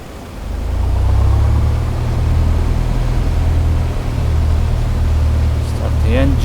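Small piston aircraft engine in Flight Simulator X cranks and catches into a steady, loud low drone that holds through the rest, with a faint whistling tone creeping in at the end.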